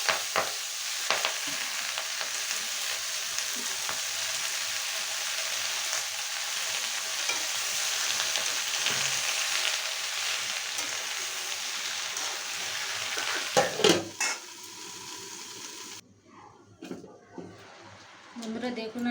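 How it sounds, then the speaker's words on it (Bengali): Spinach fries in hot oil in a pan, giving a continuous crackling sizzle with occasional stirring scrapes, and the sound drops away near the end. "আমি শাকগুলো এই তেলে দিয়ে দেব।"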